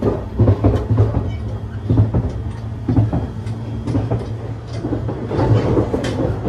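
Rhythmic clickety-clack of train wheels over rail joints, heard from inside a moving Narita Express carriage in Tokyo, with a steady low rumble and periodic thumps.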